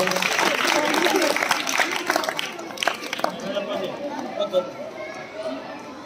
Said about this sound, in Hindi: तालियां इनके लिए जोरदार